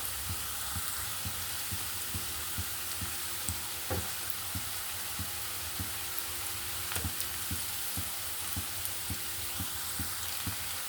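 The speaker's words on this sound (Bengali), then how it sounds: "আমার পেঁয়াজটা ভাজা হয়ে যাচ্ছে" Onion fries with turmeric in a pan, a soft, steady sizzle punctuated by rhythmic taps and scrapes of a spatula stirring about twice a second; fairly quiet and with no talking.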